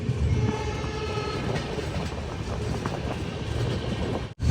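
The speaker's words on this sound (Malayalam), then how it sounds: "ഹനുമൻഗഡ് ജംഗ്ഷൻ റെയിൽവേ സ്റ്റേഷനിലേക്ക് ഇതാ നമ്മുടെ ഹംസഫർ എക്സ്പ്രസ് എത്തിക്കൊണ്ടിരിക്കുകയാണ്" Humsafar Express train pulling into Hanumangarh Junction station, a steady close rumble of rolling wagons with faint clatter throughout, ending in a brief sudden dropout.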